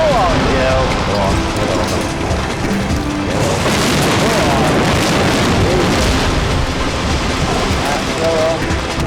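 Demolition explosive charges fire in a loud, rumbling roar that fills the whole stretch, with a heavier surge of blast noise partway through and voices shouting over it.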